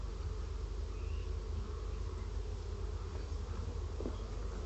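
Honey bees hum in a steady, close drone while working a busy section of a backyard hive, with no break and no voices.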